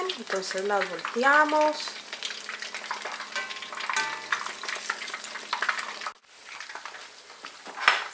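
Stuffed squash blossoms fry in hot oil with a steady close sizzle and bubbling, stirring and handling noises over it, while someone talks through much of it; the frying drops out briefly near the end, then returns.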